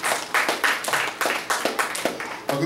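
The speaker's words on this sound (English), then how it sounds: "Let's give the Lord a round of applause." A church congregation in Newark, New Jersey, claps together during a worship service, loud irregular clusters of hand claps with a lively, uneven rhythm, close and clear.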